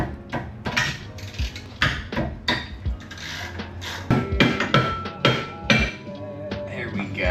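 A ratchet wrench with a 14mm socket clicks while undoing long, greased rear brake caliper bolts, giving loud, close, repeated clicking bursts in an uneven rhythm with no talking.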